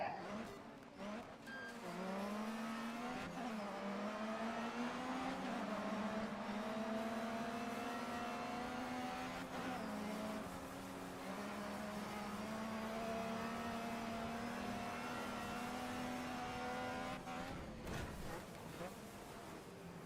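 Race car engines drone and rev continuously through a night race in Dirt 3 on PC, the pitch climbing steadily through the gears before a shift, with faint talk underneath.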